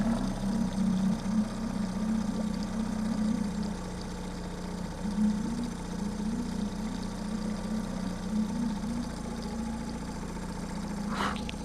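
A repaired boat engine idles steadily with an even low hum, running smoothly and continuously at close range with no voices.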